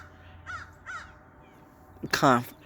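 Crows caw outdoors: two faint calls early on, then a loud, close burst of harsh caws near the end, with a voice faintly audible in the background.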